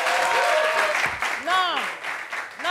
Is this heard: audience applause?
yes